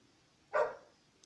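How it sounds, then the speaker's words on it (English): A single dog bark, fairly distant and moderately loud, sounds alone in a quiet setting with faint background hiss. "Probably calling for other dogs."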